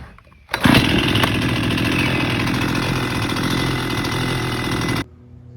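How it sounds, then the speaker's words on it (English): A large electric chainsaw kicks on abruptly and runs at a steady, loud buzzing whine for about four seconds before cutting off sharply. "For everyone who likes to make fun of the electric chainsaw, this chainsaw is too big"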